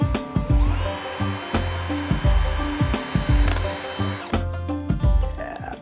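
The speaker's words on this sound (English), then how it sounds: "All right, we're gonna drill a hole." A power drill runs up close, its motor pulsing in rapid repeated surges as it bores a pilot hole through wood.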